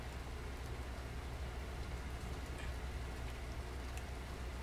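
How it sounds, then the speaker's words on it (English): Steady, even rain fills the scene in the video game Little Nightmares 2, a dense continuous hiss at a moderate level with no talk over it. "It's so pretty. It's so rainy."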